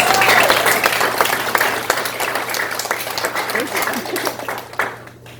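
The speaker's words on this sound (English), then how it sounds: "One more time, big round of applause, please." Warm applause from an audience at a youth gala soiree, a full round of clapping that gradually thins and fades, with some voices mixed in near the end.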